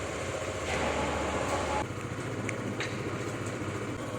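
Motorcycle engine droning steadily at riding speed with broad wind and road rush on an early cold morning commute, loud and continuous, easing slightly partway through.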